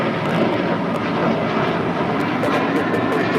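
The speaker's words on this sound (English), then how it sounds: "This is JetBlue Airways 888 taking off to Boston on an A321." A JetBlue Airways Airbus A321 takes off for Boston, a loud, steady, broadband engine roar that holds without a break throughout.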